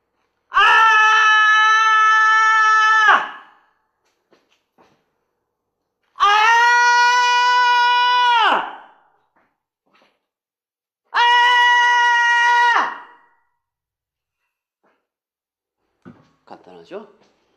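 Three long, loud, sustained screams from a human voice, each lasting a few seconds with short silent gaps between them, performed during a painting session of yellow paint dripping down the canvas.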